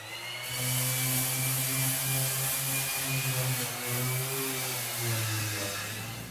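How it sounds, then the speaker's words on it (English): An orbital sander runs continuously up close on a steel frame, a loud, steady buzzing whine with a slight wobble in pitch and no pauses. "now I'm going to hit it up with orbital sander"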